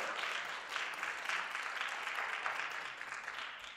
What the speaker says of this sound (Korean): 자 우리 큰 언니에게 박수.